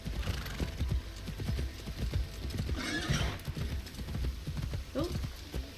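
In the Assassin's Creed Shadows game, a horse's hooves clip-clop in a steady rhythm over a low hum, with a whinny in the middle and another short neigh near the end.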